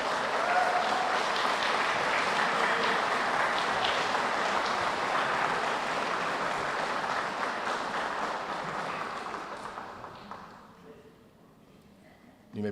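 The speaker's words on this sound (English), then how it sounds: "give your families a round of applause for all the support they've given you throughout this time" Sustained audience applause at a police department pinning ceremony, given to the officers' families; steady dense clapping for about ten seconds, then fading out to near quiet.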